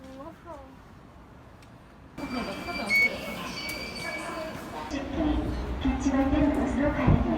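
A train passes through a station platform without stopping. Its rumble and clatter rise suddenly and swell into a growing roar with a faint wheel squeal, while people talk nearby.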